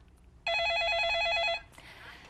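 An incoming call rings through a telephone in a live stock-market call-in studio, a single loud electronic warbling burst lasting about a second, followed by a brief softer tone.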